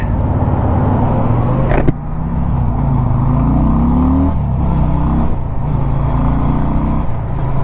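A 250cc motorcycle engine hums loud and close while riding on the road, its pitch rising and falling through gear changes, steady wind rush beneath, no talk.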